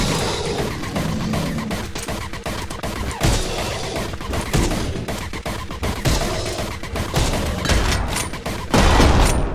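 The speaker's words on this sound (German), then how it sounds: "Ich wollte gerade auf die Fliegen schießen." Rapid gunfire in the first-person action game Anger Foot, with sharp shots cracking in quick irregular bursts and near-continuous volleys over a busy, dense background.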